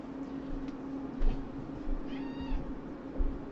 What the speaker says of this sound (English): Sometimes the cat just wants to go out.